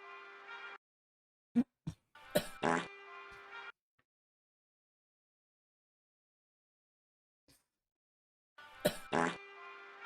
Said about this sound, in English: A stupid fart sound effect.